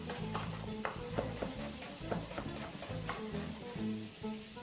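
Chopped white onions hit a pot already holding prawns and rice fixings, giving a faint, steady sizzle with light stirring scrapes throughout.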